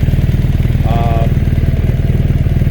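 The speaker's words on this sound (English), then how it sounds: "I notice it is throatier. The muffler is louder at idle." A BMW R1300 GS boxer engine idles with its exhaust servo deleted, giving a throaty, loud, close muffler burble in a fast even pulse, with a brief higher tone briefly over it.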